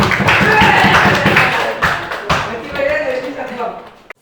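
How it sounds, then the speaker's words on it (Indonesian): Classroom applause in an informatics lesson, a dense burst of clapping from students that fades over a few seconds with some voices mixed in. "Kasih tepuk tangan dulu untuk kegagalan."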